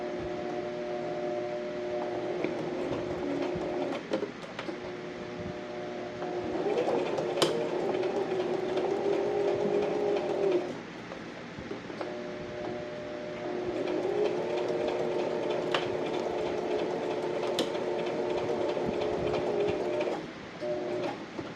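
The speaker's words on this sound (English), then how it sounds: "So I'm just going to sew this, and I'm going to back stitch at the beginning and the end." A sewing machine stitches a fabric Willow wallet in two long runs with a whirring, buzzing motor and a brief pause between them, close up and fairly quiet.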